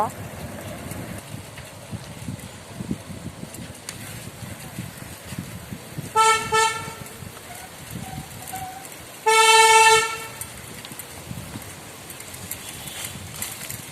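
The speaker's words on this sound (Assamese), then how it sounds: "ইমান হৰ্ণ বজাই আছে বা একেবাৰে যেন ৰেচিঙে কৰিব" Two loud vehicle horn blasts cut through steady traffic rumble in Assam, India, a short double honk followed a few seconds later by a longer sustained toot.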